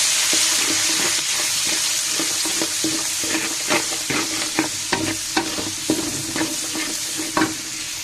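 More than a cup of onions frying in oil for biryani, a steady sizzle broken by repeated scraping stirs of a spatula against the pan, close and rhythmic, with no talking.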